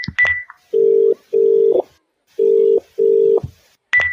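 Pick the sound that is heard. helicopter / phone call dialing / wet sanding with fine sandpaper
phone call dialing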